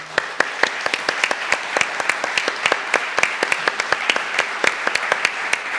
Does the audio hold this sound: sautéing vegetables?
no